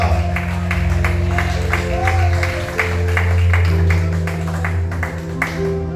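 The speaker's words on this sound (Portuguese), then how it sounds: "Receba a serva de Deus com as palmas, bem alegre, bem forte para Jesus." A church congregation claps together in a steady, rhythmic beat, loud and close, over sustained organ or keyboard chords, with a voice briefly heard over the applause.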